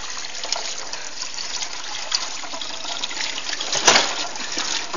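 Running tap water pours steadily, a continuous bright splashing and trickling stream with a brief louder gush near the end.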